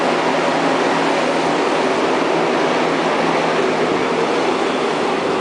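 Seoul subway train pulling out of a station in 2009, a steady, loud broadband rumble and rush of rolling wheels that holds level throughout with no voices.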